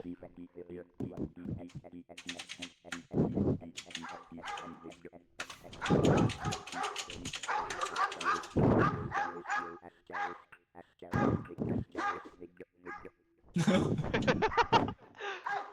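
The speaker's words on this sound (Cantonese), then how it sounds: "點解狗聲？" A dog barks repeatedly in the co-op horror video game R.E.P.O., the barks and yips coming in bursts mixed with loud, excited talking and shouting from players.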